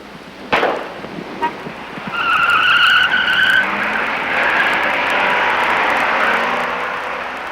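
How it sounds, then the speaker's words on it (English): A 1962 or 1963 Chevrolet Impala with a 327 engine swings through a 180-degree skidding turn, a sharp knock followed by a loud, sustained tire squeal and engine roar that fades slowly as the car pulls away. "This time, as a handicap, the Impala makes a 180-degree turn."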